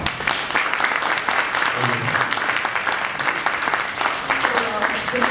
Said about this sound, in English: A round of applause for our executive director, Viviana Bianchi.